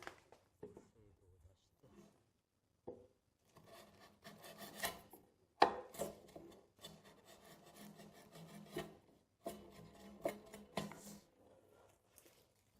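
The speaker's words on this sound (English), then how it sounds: "In this instance, I use a wide chisel to improve the accuracy of this surface." Wide chisel paring the surface of a wood joint, a series of soft scraping and rasping strokes in short bursts separated by pauses, close and quiet.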